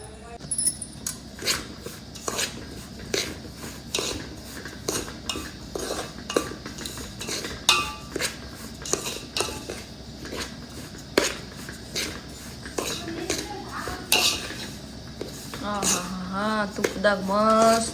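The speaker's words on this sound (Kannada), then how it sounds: "ತುಪ್ಪದಾಗ ಮಸ್ತ್ ಹುರಿಯಾತದ ನೋಡ್ರಿ ರವ." Semolina (rava) roasting in ghee in a pan for Satyanarayana puja prasad, with a steady run of clinks and scrapes from a spoon stirring against the metal, while a person talks over it.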